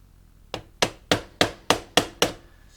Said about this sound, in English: Hitting it with a hammer just knocked the needle off